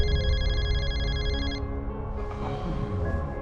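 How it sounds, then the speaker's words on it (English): A telephone rings with bright electronic trills, loud and repeating for about a second and a half, then cuts off, leaving music and low background sound. "Lena, when she answered, found it was Rum on the phone."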